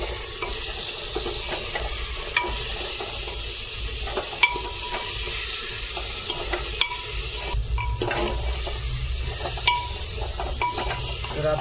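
Tomatoes fry in hot oil for a village-style prawn curry, with a steady loud sizzle and hiss, broken by scraping stirs and occasional clinks of the spoon against the pan, with no talking.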